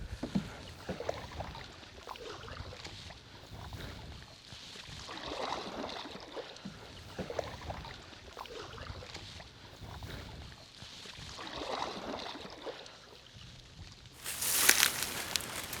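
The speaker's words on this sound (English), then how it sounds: "All right, we just pulled the canoe up to the bank here" A canoe is paddled along an Iowa creek during a bowhunting trip, with slow rhythmic swells of paddle strokes and water swishing every few seconds, quiet and close, before a sharper scraping bump as the hull reaches the bank.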